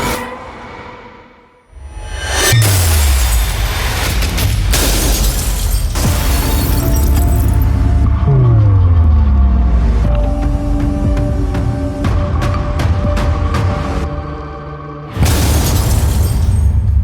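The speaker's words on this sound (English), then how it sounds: "The same car now faces a second high-severity side impact." Repeated heavy crash impacts on a Tata Tiago CNG in a high-severity side impact crash test, with shattering, crunching metal and booming hits, interspersed with sweeping mechanical whines, loud throughout.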